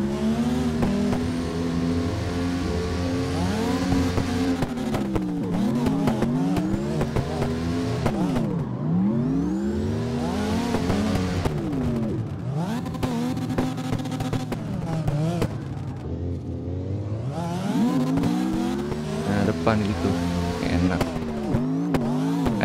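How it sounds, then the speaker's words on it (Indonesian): Loud rasping exhaust of a big truck being drifted on the Hakone Nagao touge mountain pass, engine revs rising and falling in repeated sweeps throughout, with occasional talk from inside the cab. "Mana suara knalpot sono berisik nih."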